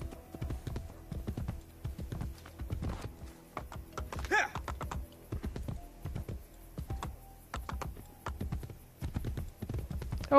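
A horse gallops in the PS3 game Assassin's Creed Brotherhood, with a quick, rhythmic clip-clop of hooves in steady bursts and brief gaps, fairly quiet and close.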